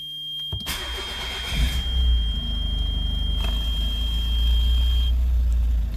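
A Nissan Figaro cranks briefly after a click, catches and fires up, then settles into a steady, close idle with a constant high whine running over the engine note.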